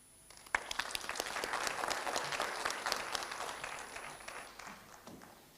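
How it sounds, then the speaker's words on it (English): Warm audience applause at a Pan African youth convention in Kenya, a burst of many hands clapping that swells quickly, holds, then gradually tapers off, somewhat distant in a large hall. "Another round of applause for him."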